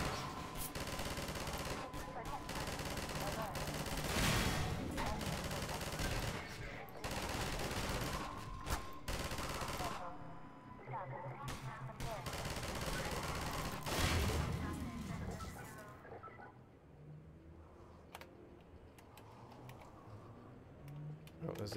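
Machine gun fire in Half-Life 2, dense bursts of rapid gunshots filling most of the stretch, broken by gaps and then thinning out near the end, with speech over parts of it.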